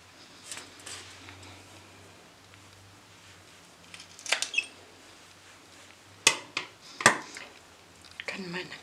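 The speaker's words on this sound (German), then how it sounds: "Hier schneide ich jetzt die Wurzeln vom Moos ein Stückchen ab." Scissors snip the roots off a clump of moss in a quiet room, a few sharp clicks and crisp cuts scattered apart, clustered in the second half.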